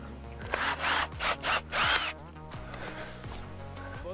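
A drill drives a self-tapping screw into a PVC slip tee fitting on a gothic arch greenhouse frame, giving several short, close whirring bursts in quick succession before settling into a low hum.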